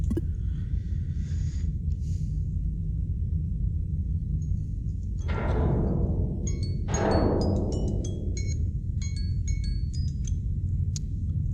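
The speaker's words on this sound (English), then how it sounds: "That was the alarm." The alarm in the video game Duskers is a sweeping electronic tone that falls twice in a row. A string of sharp, clicky beeps follows it, all over a constant low drone.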